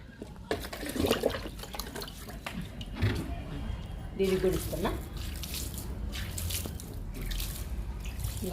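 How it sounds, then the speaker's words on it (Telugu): Aloe vera liquid is poured onto mint plants growing in a tub, giving a soft continuous splash and trickle close by while a person talks over it. "అలోవెరా లిక్విడ్ ఇప్పుడు పుదీనాకి ఇస్తున్నాను"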